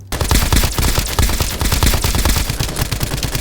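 A laser gun fires a rapid, loud, sustained automatic burst in the video game Escape from Duckov, with dense repeated shots and no talk.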